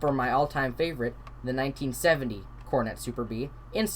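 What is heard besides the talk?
None of the usual background noises is heard.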